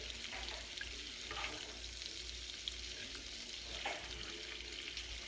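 Shrimp and bacon sizzle in a hot pan, a constant close frying hiss with small scraping and clinking touches as the pieces are lifted out and moved to a plate.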